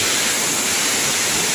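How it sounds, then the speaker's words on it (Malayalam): A waterfall in Idukki roars close by as a steady, dense wash of rushing water that fills the whole short stretch, with no other sounds standing out. "നമ്മളെ മനോഹരമായ വെള്ളച്ചാട്ടത്തിന്റെ അടുത്ത് നമ്മൾ എത്തി"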